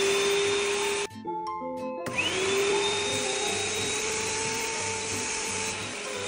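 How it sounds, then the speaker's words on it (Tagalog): A small vacuum cleaner whines loudly and continuously as it cleans chalkboard erasers, briefly cutting out and restarting partway through, its close motor drone rising again in pitch. "Vacuum pala to para dito."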